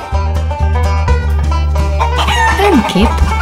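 A chicken clucking loudly and repeatedly close by, with a steady low drone underneath, ending in a few higher-pitched squawking calls.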